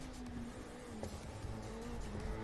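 A race car engine runs steadily in an endurance race as the car leaves the pit lane after a driver change, a continuous close motor drone with a steady tonal hum and no talk.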